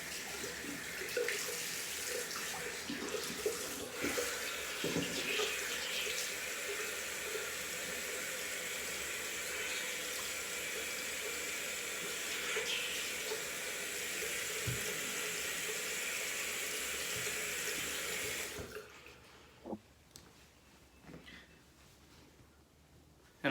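Tap water runs steadily from a faucet into a sink during a rinse-off after shaving, a continuous close hiss lasting most of the stretch before cutting off, followed by a few faint clatters.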